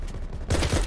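Gunfire in an online shooter video game breaks out halfway through, a loud, dense burst of rapid shots following a quieter stretch.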